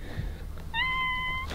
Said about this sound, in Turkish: Kedi mi var? Kedi var.